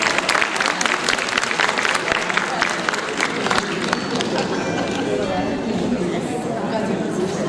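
Audience applause at an award ceremony, the Kadambari Alankaran and Samman Samaroh, a sustained, loud patter of many hands that fades somewhat toward the end, with an announcer's voice and crowd chatter mixed in.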